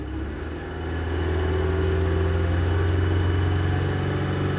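A 2.3-litre turbo petrol engine in a Mazda CX-7 with 170,000 km rises from idle to a held higher rev with a steady drone and a deep hum, close by, with no talk.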